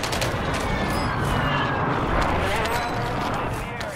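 Gunfire in the Warzone video game, dense overlapping shots and rattling bursts sustained throughout at steady loudness, with no clear speech over them.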